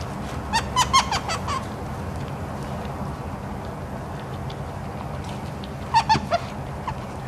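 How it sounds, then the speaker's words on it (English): Two short bursts of strange high, squeaky yelping calls from muntjac deer, a few seconds apart, over a quiet outdoor background hum. "These are muntjac deer."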